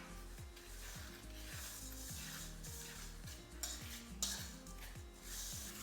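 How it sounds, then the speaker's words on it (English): Dry bath bomb ingredients, including baking powder, are stirred together in a bowl, giving repeated rhythmic scraping strokes, close and quiet, about two per second. "Now we're going to mix our ingredients together."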